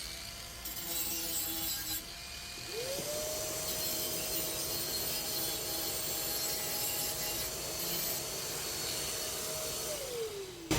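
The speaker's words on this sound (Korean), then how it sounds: "청소기를 하고 갈게요." Vacuum cleaner sucking up dust after cutting toilet drain pipe, a steady mid-pitched motor whine that starts after a couple of seconds, holds level, then winds down near the end over rough scraping noise.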